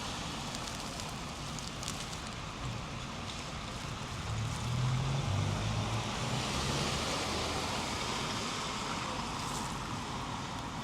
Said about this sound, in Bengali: ভোস্তনিয়াতে আজকেও বৃষ্টি চলছে।